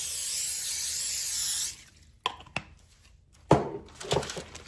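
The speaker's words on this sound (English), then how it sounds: "I'm going to spray it with some non-stick spray." A continuous hiss of non-stick cooking spray onto a pan for about two seconds, then stops, followed by a few light clunks and taps of the pan being handled.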